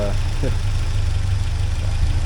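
A 1979 Porsche 924 engine running at idle after debris blew into the exhaust pipe, a steady low rumbling throb close by, with a brief voice near the start.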